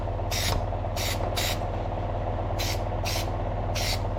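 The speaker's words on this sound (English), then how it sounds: "I'm just spraying this stuff up in here." Short hissing bursts of adhesive sprayed from an aerosol can inside a 1957 oval window Volkswagen Beetle in a hot rod garage, six quick spurts in two clusters over a steady low hum, close to the microphone.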